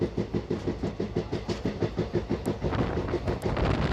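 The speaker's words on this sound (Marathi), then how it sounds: "कोयना एक्सप्रेसला तारगाव रेल्वे स्टेशनवरून पुढे डिपार्चरचा सिग्नल मिळाला आहे आणि गाडी आता डिपार्चर होत" Koyna Express pulling out of Targaon railway station, with a steady rhythmic clatter of wheels over rail joints and a rumbling engine, close and continuous, with no one talking.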